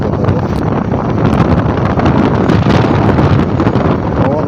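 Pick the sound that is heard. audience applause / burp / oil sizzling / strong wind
strong wind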